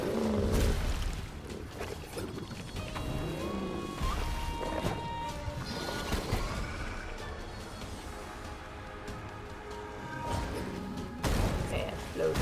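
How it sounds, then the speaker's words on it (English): Explosions in the video game Death's Door: several heavy crashing thuds spread across the stretch, mixed with game music and voices talking. "explosion"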